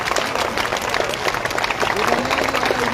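Audience at a welcoming event in Tharad claps in honour of a guest, a dense, continuous patter of many hands, loud and close, with crowd noise mixed in.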